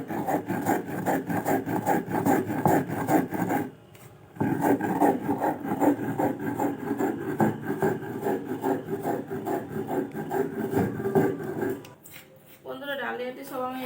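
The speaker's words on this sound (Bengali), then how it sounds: "আমি শিলনোড়াতেই গুঁড়ো করে নেব।" Broken wheat (dalia) is ground on a stone grinding slab with a rhythmic, rasping scrape of the grinding stone repeated many times, close and loud, with a short pause and a brief voice near the end.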